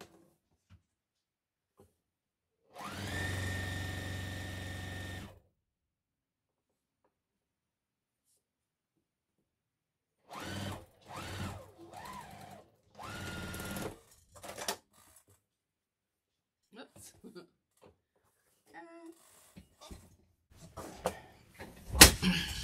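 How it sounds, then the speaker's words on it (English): A sewing machine stitching quilt rows runs in a steady whir for about two seconds, then in several shorter bursts, close and alone in an otherwise quiet room. "I'm just gonna sew rows."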